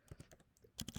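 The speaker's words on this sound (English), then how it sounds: "In this case, I'll type in" Password being typed on a computer keyboard: a quick run of close, crisp key clicks, sparse at first and then a denser burst of strokes at the end.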